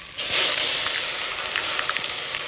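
Tomatoes drop into hot oil for a tadka for Punjabi dhaba-style mutton curry, setting off a sudden loud hissing sizzle that keeps going steadily with small pops and crackles.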